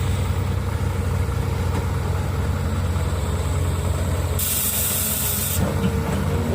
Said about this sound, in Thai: เสียงเทอร์โบ